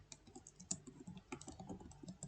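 Program code being typed on a computer keyboard: quiet, close, quick irregular key clicks with a few sharper taps, continuous throughout, with no voices.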